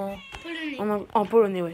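A pet cat, a black one, gives several drawn-out meows in quick succession, close and fairly clear, with a person speaking briefly alongside.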